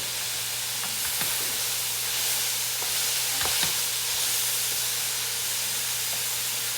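Sausage and kale sizzle steadily in a soup pot as they cook down until wilted, a dense, even hiss up close with a few faint taps of a spoon and no talking.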